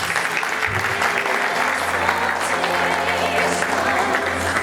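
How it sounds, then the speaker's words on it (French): Audience applause fills a church anniversary gala, a steady dense wash of clapping from a sizeable crowd that holds throughout, with a low hum underneath. "Des applaudissements s'il vous plaît."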